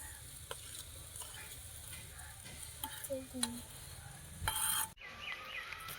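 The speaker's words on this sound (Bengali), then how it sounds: "এই যে গুড় আছে, এই গুড়টা আমি একটু গলিয়ে নেব।" Jaggery melts in water on a village stove, giving a soft, low bubbling sizzle with light clinks of a stirring utensil and a brief louder burst near the end.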